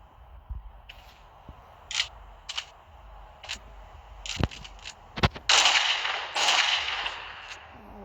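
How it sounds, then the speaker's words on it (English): Cartoon gunfire in an animated Sprunki pirate story: several sharp, crisp shots crack out one after another, followed by a louder burst of noisy impact or debris. "And the pirate was shot at least twice."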